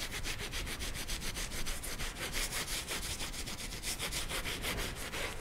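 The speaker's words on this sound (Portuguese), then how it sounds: "Pode esfregar com vontade." Steady, rhythmic scrubbing of a painted wooden key holder decorated with lavender and lace, fast back-and-forth rubbing strokes close to the mic, continuous and moderately quiet, with no voice.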